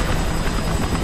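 Helicopter rotor thrum from the video game Kane & Lynch 2, a steady loud whirring wash filling the whole second without pause, with no voices over it.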